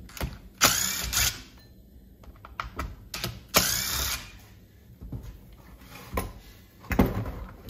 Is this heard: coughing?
no